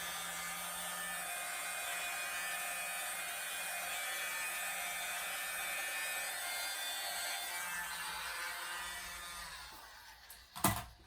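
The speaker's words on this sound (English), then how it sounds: "A blower. You can tell my blower is well used." A well-used, paint-crusted air blower runs with a steady, loud rushing hiss and hum, then winds down near the end, followed by a couple of brief clunks.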